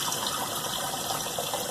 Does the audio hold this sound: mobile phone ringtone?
no